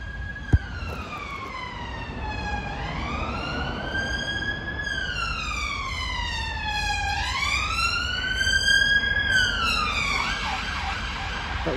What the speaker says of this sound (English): That was an ambulance, people.